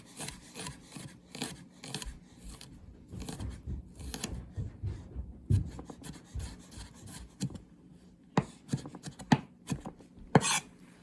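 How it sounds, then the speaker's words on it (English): Onions being chopped with a chef's knife on a board, a steady run of close, crisp cuts and scraping strokes with brief pauses, several sharper knocks near the end. "I just prefer to chop with this knife."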